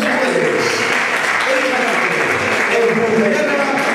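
Applause for a children's rondalla at a rondalla gathering in Puntallana, a steady, dense clapping from a crowd that fills the whole moment without pause.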